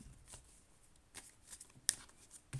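Soft, faint shuffling of tarot cards, sticking together, with light riffles and slides, a couple of sharper flicks, in a quiet room with no talking.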